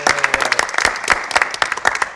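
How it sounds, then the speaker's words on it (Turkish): Studio audience applauding the director Gökdeniz on a talk show, a short burst of dense, steady clapping from a small crowd, fairly close and loud, with no voices over it. "bir alkış"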